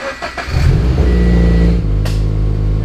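A Toyota FRS / Subaru BRZ engine cranks briefly and catches, then settles into a loud, steady idle close by.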